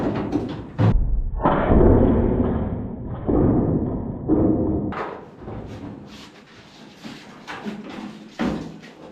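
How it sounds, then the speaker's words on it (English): A car hood being unbolted and lifted off during engine removal for a rebuild: a string of loud, close thuds, clunks and scraping handling noises, with short quiet gaps between bursts. "First things first, this hood's got to come off here."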